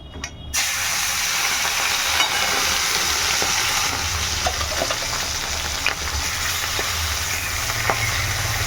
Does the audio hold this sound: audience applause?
no